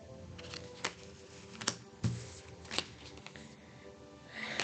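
Oracle cards are shuffled close by and fairly quietly, with soft riffling and several sharp snaps as cards are cut and drawn from the deck, and no talking.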